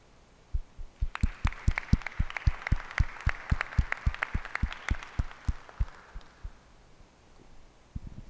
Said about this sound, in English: give you all a round of applause for being a part of our cohort